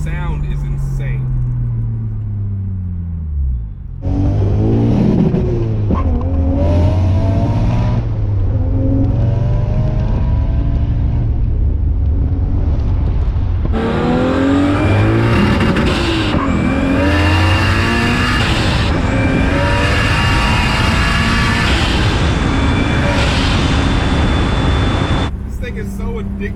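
A Lexus LS400 with a 1JZ engine revs hard and loud, rising and falling through repeated sweeping pulls over about half a minute, with a voice talking over part of it.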